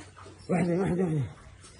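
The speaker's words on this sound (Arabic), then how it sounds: "شوفوا الكلب نطل" A dog gives a single drawn-out whimpering whine lasting under a second, close and fairly clear over a quiet background.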